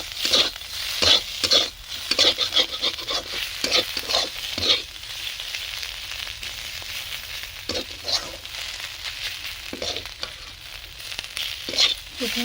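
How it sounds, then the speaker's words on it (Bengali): Pui leaves cooked with mustard oil and sugar are stirred in a hot pan: repeated close scrapes and clatters of the spoon over a steady sizzle, busier at first, then sparser with pauses. "অল্প করে সরষে তেল দিয়ে দেবো অল্প করে চিনি দিয়ে নাড়িয়ে নামিয়ে নেব"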